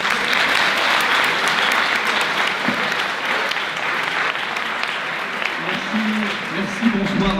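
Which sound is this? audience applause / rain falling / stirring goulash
audience applause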